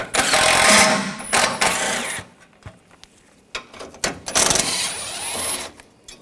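Socket ratchet clicking while removing 10mm bolts on a 2013-2022 Buick Encore during AC condenser replacement, bursts of metallic ratcheting and clatter close by, alternating with quieter pauses, no talking.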